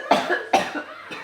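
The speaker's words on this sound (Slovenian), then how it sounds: "Kašlaj." Three sharp coughs from one person on a film set, close and loud, evenly spaced with the last one weaker, with no talk around them.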